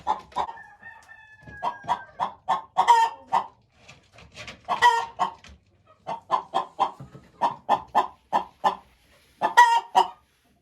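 Hens cluck in quick repeated bursts with a rhythmic, uneven pattern, fairly close and clear, with no talking.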